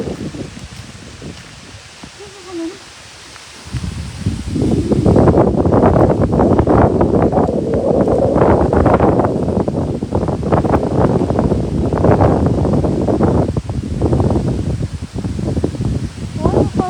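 Very strong wind at Phaya Nak cave starts quietly, then surges into a loud, continuous roar and buffeting rush that persists to the end.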